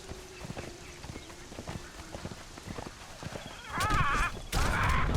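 Horse hooves clip-clop in Conan Exiles, a steady soft walking rhythm of light thuds in a rainy jungle, followed by louder bursts of noise near the end.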